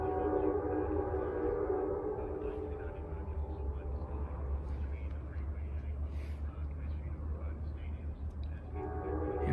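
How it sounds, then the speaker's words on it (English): A westbound Amtrak Capitol Limited passenger train, led by Genesis locomotive 17 and hauling five Superliner cars, heads for a tunnel. Its deep, steady rumble stays loud and close for the whole stretch. "Amtrak is on time. Led by 17. Heading for the tunnel as usual."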